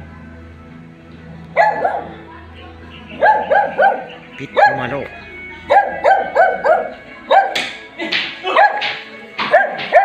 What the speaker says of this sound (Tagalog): May kasama pang aso.